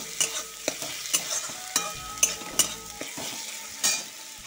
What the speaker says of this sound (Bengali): আজকে গ্রেভি হওয়ার জন্য একটু বাটাটা দিচ্ছি